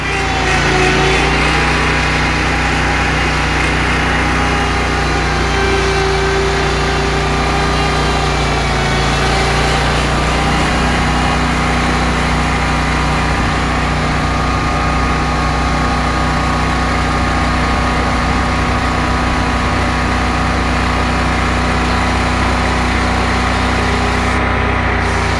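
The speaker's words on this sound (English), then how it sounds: "So I'm gonna get mowing, guys." A lawn mower engine runs continuously at a steady, loud drone throughout while mowing outdoors, close by and alone.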